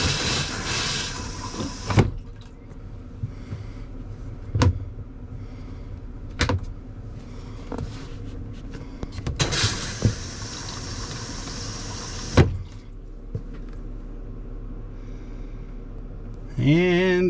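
Water pressure is turned on to fill a Dometic RV toilet valve after repair. Loud bursts of rushing, hissing water start and stop several times, separated by quieter stretches with knocks and clunks, and a voice briefly joins near the end.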